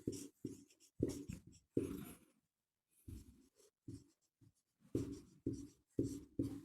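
Chalk or marker strokes on a classroom board during an English grammar lesson, a series of short scratchy bursts in quick rhythm with a brief pause midway, close and fairly clear with no talking.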